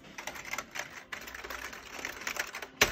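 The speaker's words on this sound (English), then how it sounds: "Let me just type it in." Quick, uneven keystrokes clatter on a computer keyboard nearby for about three seconds, ending with a single louder tap.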